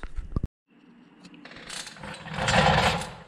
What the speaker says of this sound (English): Now I'll start tightening down on this nut and compressing that spring